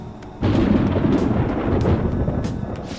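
Thunder rumbles in Persona 5 Royal as rain approaches: a deep, rolling roar swells suddenly and stays loud and sustained, with broad low rumble and occasional crackling peaks, and no voices.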